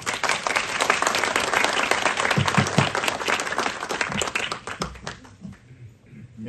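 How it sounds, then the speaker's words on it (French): A hall audience applauds the speaker Martial Bild, a dense, steady burst of clapping that fades out after several seconds. "Merci de l'applaudir."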